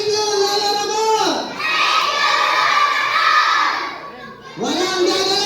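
A crowd of children shout together loudly in a sustained burst, breaking off briefly, then rising again near the end, with chanting and cheering energy throughout.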